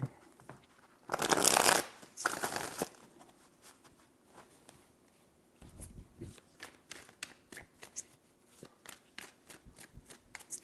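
A deck of tarot cards is shuffled in two quick, close riffling bursts, followed by quieter scattered taps and rustles as the cards are handled, with no talking.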